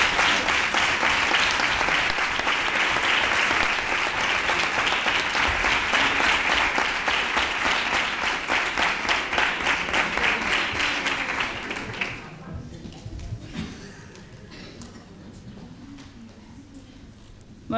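An audience applauding after a proclamation speech at a Three Kings coronation event in Nerva: loud, sustained clapping from a large crowd that fades out after about twelve seconds into quieter room murmur.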